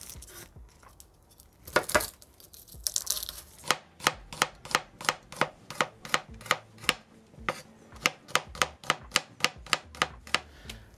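Garlic being chopped with a knife on a board, a few uneven cuts and scrapes at first, then a long run of steady, evenly spaced sharp taps, close and clear with no talking.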